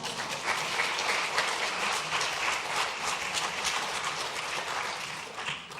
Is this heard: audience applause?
yes